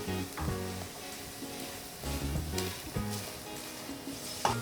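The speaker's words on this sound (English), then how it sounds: "as that's cooking down, we just keep stirring it so we don't burn it" Spices for a cashew nut curry cooking down in a pan, with a steady close sizzle and occasional soft stirring scrapes throughout, no voices.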